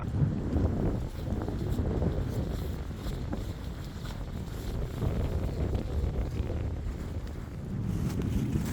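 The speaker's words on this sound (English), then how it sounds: "The wind is picking up." Strong wind gusts buffet the microphone at an urban forest campsite overlooking a city, a continuous heavy low rumble with swelling blasts and no pause throughout.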